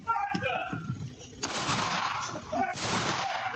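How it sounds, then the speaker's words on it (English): Exchange of gunfire between a homeowner and intruders outside a house, caught on a Ring doorbell camera: several sharp bursts and broadband cracks, fairly loud and roomy, with voices talking underneath. "and a gunfight ensues"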